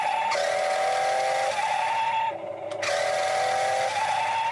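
A Tesla Cybertruck AWD RC car drives nearby, its electric motor giving a steady high whine that shifts pitch with speed and briefly cuts out before revving again.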